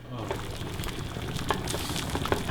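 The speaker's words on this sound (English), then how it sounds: "this thing's fucking boiling like a motherfucker right now" Honey water for mead comes to a rolling boil in a pot, giving a steady close bubbling and sizzling hiss with small pops scattered through it and no talk over it.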